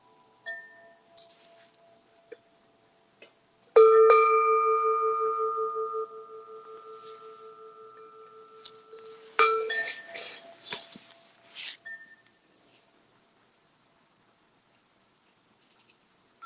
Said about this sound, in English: Got the wind chimes going.